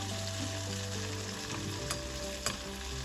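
Pathiri rice flatbread frying in oil in a small pan, a continuous soft sizzle with a steady low hum and a couple of brief scrapes or clinks near the end.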